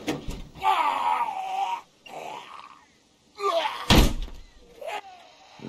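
A door being forced in The Walking Dead video game: a heavy thud and slam lands among strained grunts and groans, with short bursts of effortful vocal noise around it.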